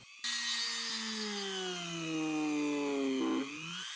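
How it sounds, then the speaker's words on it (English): A small Dremel rotary tool whines steadily at high speed while drilling a small pilot hole, its pitch sagging slightly as it bites into material, nearby and continuous. "I need to drill a small hole into the spindle first to help get them in"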